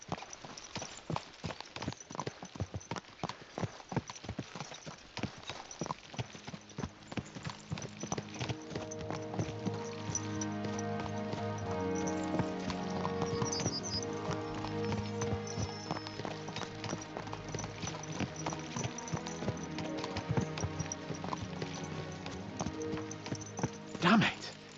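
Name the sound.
horses ridden on road in Kingdom Come: Deliverance II video game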